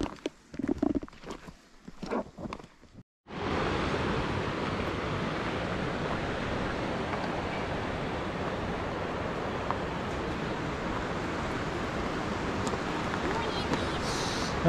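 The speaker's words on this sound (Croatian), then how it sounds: "Evo rijeka Buna," The Buna river rushes near its spring at Blagaj in Herzegovina, Bosnia, a steady broadband roar of flowing water that starts suddenly after a few seconds of faint, scattered sounds and continues unbroken.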